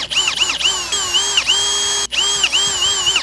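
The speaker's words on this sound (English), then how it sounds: "We're going to go ahead and drill out these holes." A power drill boring holes in a tweeter mount for a Hyundai Kona front door whines loudly in several pitch-bending runs, the motor dipping and rising as the bit bites, with a brief cut near the middle.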